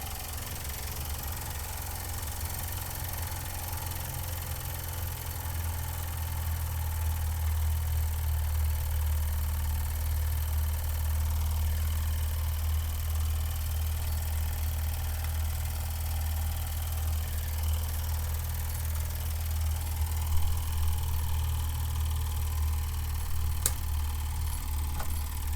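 An Empire No.62 long boiler model steam engine runs steadily with a continuous low, even hum and a faint higher hiss, constant in level throughout with no talking over it.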